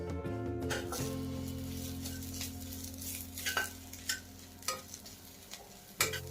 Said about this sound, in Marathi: मसाला आता आपण छान भाजून घेणार आहोत